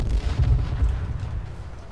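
A deep, rumbling boom from a bomb explosion in H1Z1: King of the Kill rolls out, heavy low-end roar sustained and slowly fading over a couple of seconds.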